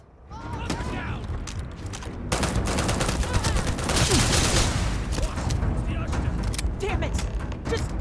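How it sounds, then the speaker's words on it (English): Gunfire in the Starfield video game comes in rapid, loud bursts and dense fusillades that build and keep going, with mechanical clicks, while a player shouts over the shooting. "Just shoot everything!"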